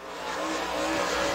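A super late model race car on a dirt speedway during qualifying, its engine roaring in a steady, building drone that rises slightly toward the end.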